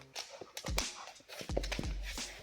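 A dog breathes in quick, rough pants with brief whimpering sounds close by. Claws clatter on a hard floor during a short indoor stretch.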